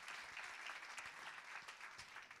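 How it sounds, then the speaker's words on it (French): A seminar audience at a francophone fundraising event applauds a guest from the ministry, a brief burst of dense, even clapping heard faintly from across the hall. "Je vais vous demander d'applaudir bien fort un membre."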